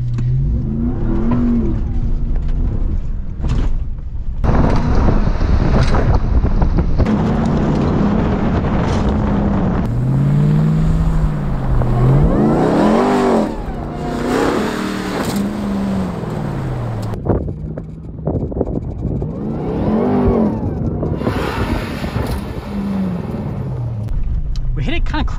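A supercharged Hellcat-powered Ram TRX pickup truck accelerates at full throttle toward a jump, its loud engine rising and falling through several revving sweeps with heavy wind buffeting on the microphone.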